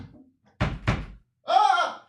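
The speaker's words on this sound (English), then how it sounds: "knock on the door" Two solid knocks on a door, close and loud in quick succession, followed by a brief harmonic vocal-like tone; no talking over the knocks.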